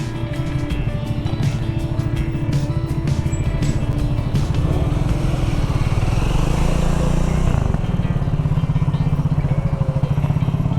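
A ferry launch engine on the Konkan coast chugs steadily and loudly up close for the whole stretch, its low throb shifting in tone about three-quarters of the way through.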